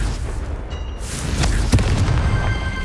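A Confringo blasting spell explodes in the video game Hogwarts Legacy: a single deep, booming blast with a sharp crack lands over a dense rumbling background, followed by a short decaying roar.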